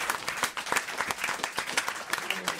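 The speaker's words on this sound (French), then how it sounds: "Applaudissements." Studio audience applause at a French television comedy show, a dense patter of many hands clapping steadily throughout at moderate volume with no voices over it.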